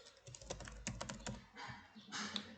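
Computer keyboard typing for an Excel spreadsheet, quick light key clicks in irregular bursts close by with a short pause near the end.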